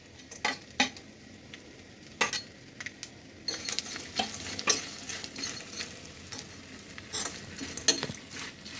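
Dried shrimp fry in hot oil for a chutney with a soft, continuous sizzle, while a utensil stirs and scrapes the pan in sharp, irregular clinks and taps.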